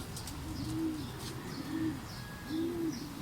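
Pigeons coo in three slow, evenly spaced calls at a moderate distance, with faint chirps and outdoor ambience around them.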